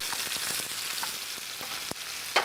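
Onion softening in a frying pan, a close, steady crackling sizzle with scattered pops and sharper spits throughout, and no voices over it.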